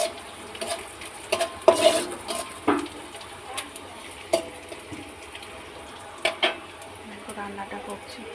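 Onions sizzle in a pan on a home stove as they are stirred into an aloo curry, with soft steady frying hiss and irregular clinks and scrapes of a utensil against the pan.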